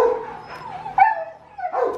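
Dogs at an adoption shelter bark, yip and whimper close by, in a quick run of high whiny cries and short yaps.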